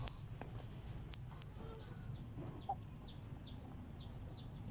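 Heera breed hens and a seven-to-eight-month-old young rooster cluck quietly at a distance, with soft scattered calls over a low background hum and one brief sharper note midway.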